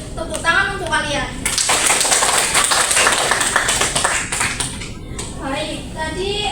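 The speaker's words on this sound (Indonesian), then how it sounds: "Tepuk tangan untuk kalian." A classroom of students claps together for their group's discussion, a dense, steady burst of applause lasting a few seconds, framed by a teacher talking before and after.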